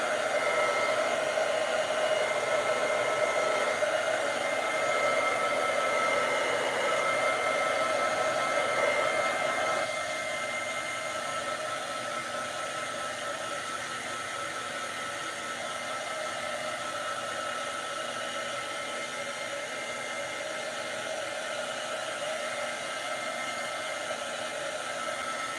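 A hair dryer runs steadily and loud on a craft project coated in waterproof Mod Podge. It holds a constant whirring roar with a slight drop in level partway through, and no one talks over it.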